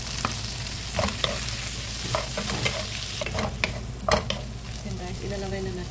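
Shrimp hits melted butter in a hot pan and fries with a steady sizzle, broken by sharp scraping and clacking as a utensil stirs them around, close up.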